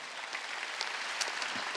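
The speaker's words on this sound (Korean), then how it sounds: "박수." A church congregation at a Wednesday worship service gives a short burst of applause, a soft, steady wash of many hands clapping with no talk over it.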